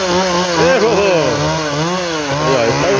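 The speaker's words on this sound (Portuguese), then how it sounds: "Cortando grama de motosserra, que já tá ali, pessoal." A chainsaw engine runs loud and close while cutting grass, its whining note rising and falling as the throttle shifts, with continuous buzzing and no pause.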